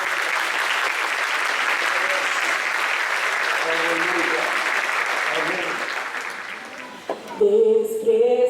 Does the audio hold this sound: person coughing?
no